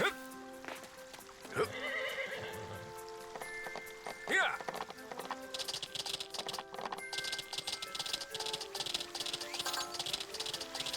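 A horse in the farming video game Story of Seasons: Grand Bazaar whinnies and clops its hooves, the neigh standing out early against game music and a steady rain-like patter.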